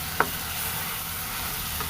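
Soaked chana dal is stirred in a frying pan, a soft steady sizzle with one light scrape or clink near the start and a fainter one near the end.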